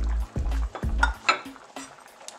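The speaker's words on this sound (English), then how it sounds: "After an hour, I'm adding the one small can of tomato sauce." Tomato sauce from a small can added to a simmering pot of pork and beans, a few metallic clinks and scrapes of can and spoon against the pot with soft stirring, close and unaccompanied by talk.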